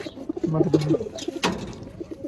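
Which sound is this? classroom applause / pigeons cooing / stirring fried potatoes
pigeons cooing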